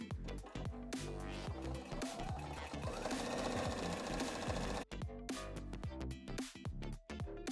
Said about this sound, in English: I'm just going to use a regular straight running stitch to do this front hem